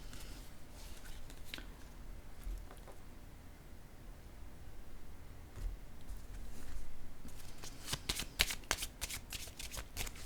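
Tarot cards are shuffled close by, a soft continuous riffling that turns into a quick run of crisp flicking snaps near the end, with no talk.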